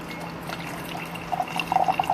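Pi Lo Chun green tea pours in a light, close trickle that builds toward the end into a brighter splashing stream, with no one talking over it.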